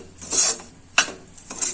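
Powdered sugar being mixed into karanji filling in a bowl, with a few short scraping and rubbing strokes and a sharp tap of the spoon, close and fairly loud.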